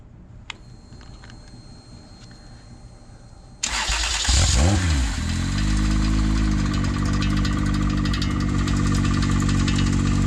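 A Toyota 1JZ engine destined for a truck cranks and catches after a few quiet seconds, lets out a sharp rev, then settles into a loud, steady idle.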